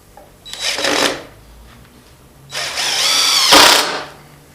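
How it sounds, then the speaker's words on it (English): A power drill driving 2-inch deck screws for an outdoor step, two separate bursts of roughly half a second and a second and a half, loud and close with no talk. "And I'm going to use 2-inch deck screws."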